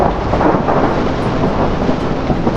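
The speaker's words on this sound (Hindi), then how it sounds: "एक दिन जोरदार तूफान आया।" Thunderstorm with heavy rain, a dense steady roar of downpour carrying low rolling thunder throughout, loud and continuous with no voices.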